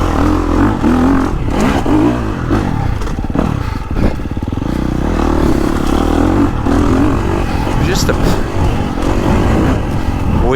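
A 2023 KTM 350 SXF dirt bike ridden through a wooded trail loop, its engine revving and surging loudly up close, mixed with clattering and scraping from the chassis over rough ground.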